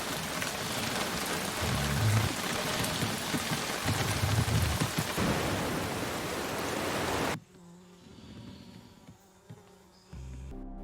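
Heavy rain pours down during a flash flood in a dense, steady hiss for about seven seconds, then cuts off abruptly to a much quieter scene.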